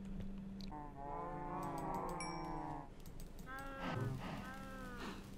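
Cattle mooing in a farming video game, long drawn-out lowing calls, one sustained moo followed by another overlapping call, steady and fairly close with a constant low hum underneath.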